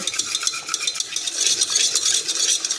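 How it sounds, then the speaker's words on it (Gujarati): Boiled raw mango is mashed by hand in a bowl, giving a quick run of wet squishing and scraping strokes, close and fairly loud, with no one talking. "તો હવે આપણે તેને મેશ કરી લઈશું।"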